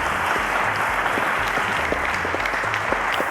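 Dense applause from a studio audience at a televised school maths quiz, a continuous loud patter of many hands clapping at once, steady from start to finish with no voices.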